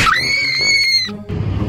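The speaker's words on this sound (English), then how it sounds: "I heard screaming." A loud, close, piercing scream sustained for about a second, breaking off and followed by a shorter shriek amid noisy background.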